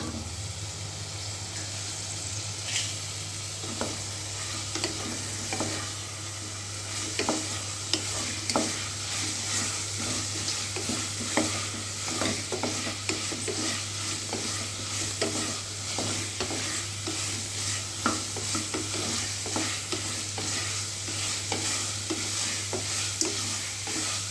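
Cauliflower stir-fried in a pan for cauliflower rice gives a steady close sizzle, with repeated scraping and tapping as it is stirred throughout.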